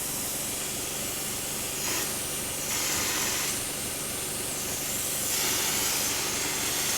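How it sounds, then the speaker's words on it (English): A hopper gun sprays Multicoat coating, a loud continuous hiss of compressed air and spray, with the intensity shifting in bursts as the trigger is worked, steady and close with no talking. "Typically you use Graco or airless sprayer, but here, for our purposes here, we're just gonna use a hopper."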